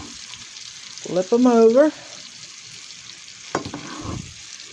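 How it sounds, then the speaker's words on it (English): Hamburger patties for Swiss steak burgers sizzle and crackle as they fry in a pan, a steady close hiss throughout, with a short burst of speech and a clatter of handling partway through. "Now they're starting to sizzle."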